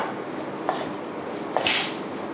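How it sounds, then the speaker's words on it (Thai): Two soft knife chops land on a cutting board about a second apart, cutting chicken into cubes, quiet and close, with faint scraping in between. "จากนั้นหั่นเป็นเส้นยาวนะคะ แล้วก็ หั่นเป็นชิ้นเต๋าค่ะ"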